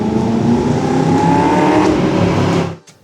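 An American V8 engine revs loud and close in one sustained, rising roar that holds for a couple of seconds, then cuts off abruptly into near silence.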